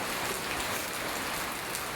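Rain falls steadily in a constant soft hiss of drops striking surfaces, with an even intensity and no talking.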